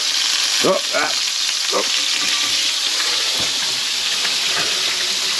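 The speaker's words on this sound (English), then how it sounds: "raging oil spatter." Banosh frying in hot oil makes a loud, steady hissing sizzle, close up, with a few short knocks and scrapes near the start and no speech.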